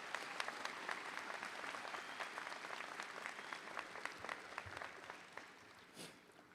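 Steady applause from a crowd, many hands clapping densely throughout and tapering slightly near the end.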